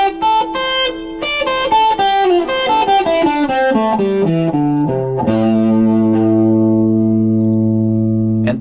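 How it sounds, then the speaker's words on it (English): A distorted electric guitar plays a quick pentatonic run of single notes, stepping downward, then settles into sustained ringing notes over a steady backing track, with no talking. "I'm going to play along with a backing track using just the pentatonic notes,"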